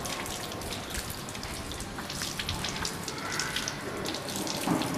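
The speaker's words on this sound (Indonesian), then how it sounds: "terus kita bilas dengan air mengalir" Running tap water streams steadily into a sink as hands are rinsed, a continuous close splashing hiss with no voices.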